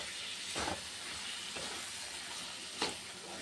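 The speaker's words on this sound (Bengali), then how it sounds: "দেখো তেল বেরিয়ে গেছে জল দিয়ে দিলাম" A spiced potol and potato curry hisses and sizzles as water is added to the frying pan, producing a soft, steady steamy wash with a few brief bursts of louder crackle.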